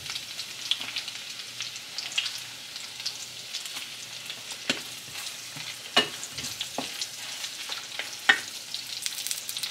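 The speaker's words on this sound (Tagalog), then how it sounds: "So, ngayon, lutuin natin ang sausage." Sausage frying in a pan with butter, a steady soft sizzle with occasional sharper pops and crackles, close and continuous with no talking.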